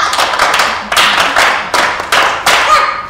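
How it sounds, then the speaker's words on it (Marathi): A children's state drama competition audience claps in five or six short, loud bursts of rhythmic group clapping, each burst fading before the next, with no speech. "उत्तर बरोबर असा. टाळ्या."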